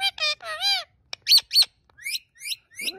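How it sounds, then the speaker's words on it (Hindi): A pet parrot, a talking bird, lets out a rapid run of loud, close chirps, whistles and harsh squawks in quick bursts, ending with a rougher screech. "और तोता खुद को देख रहा है, मिट्टू"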